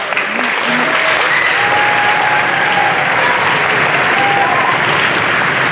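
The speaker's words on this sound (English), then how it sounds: "Round of applause." Applause from an audience at a middle school honors concert, thanking a choir officer; a loud, sustained wash of clapping fills the whole stretch, with faint voices and a few whistle-like tones over it.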